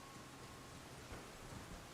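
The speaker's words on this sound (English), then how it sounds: "I wish it wasn't raining." Steady rain falls in the video game Elden Ring, a dense, even hiss that holds throughout with a faint low rumble beneath, loud and close, with no voices.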